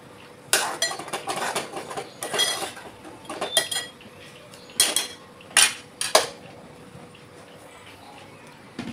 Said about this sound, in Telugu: గిన్నె దించుకోవాలి.